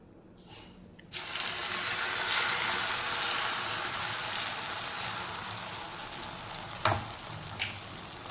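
Beaten egg poured into hot oil in a pan for an egg bread breakfast, bursting into a loud, steady sizzle after a brief quiet start, with a faint clatter near the end.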